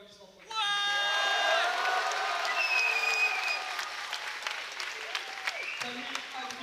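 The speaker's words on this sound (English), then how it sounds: "Tonnerre d'applaudissements pour lui." Applause and cheering from a powerlifting meet audience rise suddenly and hold as a dense wash of claps, with some shouts and whoops over it, before easing slightly toward the end.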